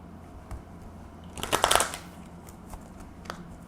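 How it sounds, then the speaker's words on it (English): Deck of tarot cards riffled in one quick, close shuffle that crackles for about half a second, with a few soft card taps before and after. "I almost forgot to shuffle."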